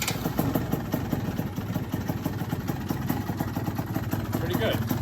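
A modified Yamaha BWS 125cc scooter with a Malossi big bore kit and 22mm carburettor runs steadily close by, its engine holding a continuous mid-pitched idle with a rough pulsing beat throughout.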